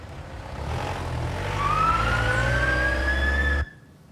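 Ambulance siren wailing on a street, a rising and sweeping tone over rumbling traffic noise that swells and then cuts off abruptly near the end.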